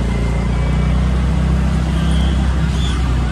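Cars sit in a traffic jam on the mountain road to Tosh village, with a constant low engine and road rumble droning steadily throughout.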